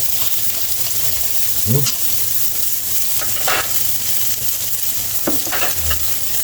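Garlic and onion sautéing in a pan, a steady loud sizzle throughout with occasional stirring scrapes and clinks over the frying hiss.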